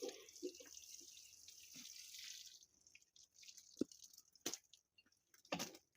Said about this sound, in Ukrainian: Поливаю звичайною чистою водою.